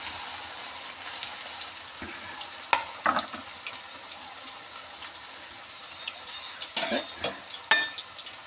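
Steady sizzling of sliced plantain frying in hot oil for chips runs throughout, with a few scraping stirs and metal clinks toward the end, close by.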